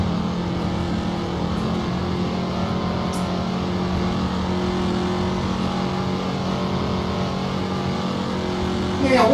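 A car engine drones steadily in fifth gear in a racing video game, a constant mid-pitched hum at cruising speed with little change, rising in intensity only in the final moment.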